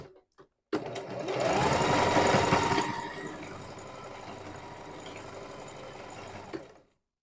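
A sewing machine runs in reverse while stitching a wig closure, starting with a loud whirring burst that settles into a steadier, softer hum for several seconds before stopping.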